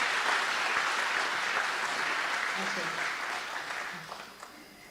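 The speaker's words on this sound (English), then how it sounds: "Let's give her a round of applause." Audience applause for a school music teacher at a board meeting, a steady broad wash of clapping that fills the room and slowly tapers off, with a brief spoken word near the end.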